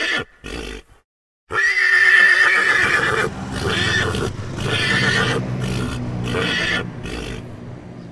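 A toy horse sounds a recorded neigh: a couple of short clicks and a pause, then a loud, shrill whinny with a quivering pitch that runs several seconds, followed by snorting and rumbling, with no talking.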